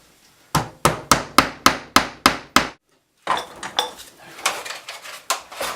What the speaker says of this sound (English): just probably need a little hammer just to pop it in.